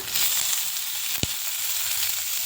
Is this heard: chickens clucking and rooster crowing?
no